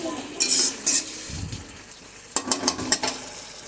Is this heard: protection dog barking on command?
no